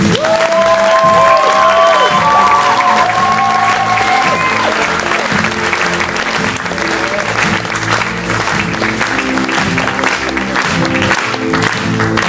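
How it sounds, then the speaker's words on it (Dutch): An audience applauds the altos of a choir being called onto a stage, with steady clapping and some cheering that fills the whole stretch, loud and close, while background music tones sit beneath it at the start. "Dus stel ik voor een applaus voor onze alten"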